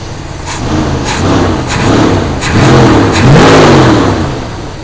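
A 1972 Buick GS Stage 1 engine revs in repeated bursts, rising and falling several times over an uneven, loosened idle, loud and close with no talking.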